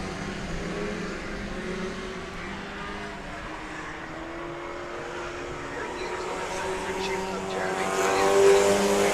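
Factory front-wheel-drive race cars circle an oval at the Indianapolis Speedrome, a steady blend of engine drone from several cars that rises toward the end, with a commentator talking throughout.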